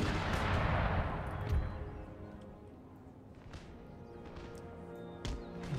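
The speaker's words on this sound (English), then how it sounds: "excellent shot by the enemy guns" Enemy artillery in Empire: Total War, a heavy boom at the start that rolls away into a long fading rumble, followed by scattered distant cracks and a sharp report near the end.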